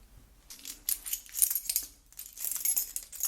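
Metal house keys jangle and clink as they are handed over in a quiet kitchen, several soft bursts of bright metallic chinks spread over a few seconds, close and gentle, with no talking.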